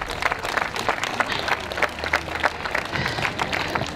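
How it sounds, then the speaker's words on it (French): An audience applauds at a community running-event gathering, brisk scattered clapping for about four seconds, fairly close and uneven, with no speech over it. "Un grand applaudissement pour ces deux et merci beaucoup d'être avec nous aujourd'hui."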